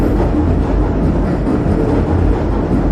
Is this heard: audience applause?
no